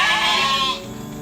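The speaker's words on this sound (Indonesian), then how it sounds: "mencari rumput untuk makan kambing peliharaan" Goats kept as livestock bleating, one loud, close, wavering bleat that fades out after about a second over faint background noise.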